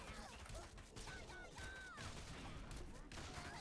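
Gunfire bursts from a machine gun emplacement in the strategy game Tooth and Tail, mixed with other battle effects and chattering continuously in the background while someone talks over it.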